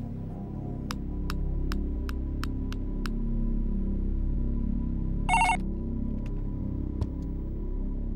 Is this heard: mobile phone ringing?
yes